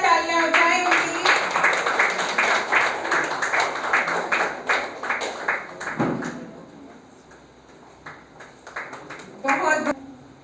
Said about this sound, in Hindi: तालियां उठाएं उनके लिए।